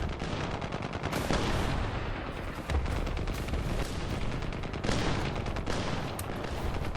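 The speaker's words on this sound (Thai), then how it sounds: "อาร์ตี้ลงไป" An artillery strike pounds down in War Thunder, with heavy overlapping explosions and rattling gunfire arriving in dense rolling bursts, loudest at a few sharp peaks amid a constant roar of battle.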